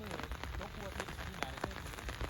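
Steady rain patters densely on a surface, a continuous wash of drops with a few sharper hits standing out.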